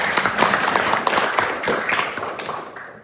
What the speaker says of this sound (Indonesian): Yuk, kita tepuk tangan kita semuanya.